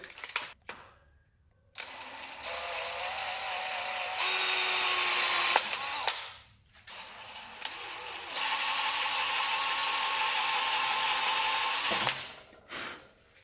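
A power drill whines in several runs, rising in pitch as it spins up and bites into metal, with short gaps between bursts and a grinding, metallic edge.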